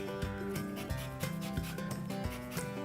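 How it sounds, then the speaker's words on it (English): One large lemon is scraped against a zester or grater in quick, even rasping strokes, about eight close, soft scrapes in a steady rhythm with no voice. "Now our lemon zest, the zest of 1 large lemon."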